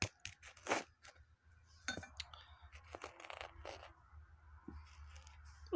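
A gold bar being tapped to break it open gives sharp, bright metallic clinks and scraping crunches, several separate knocks spread across the span, close and fairly loud against a quiet background.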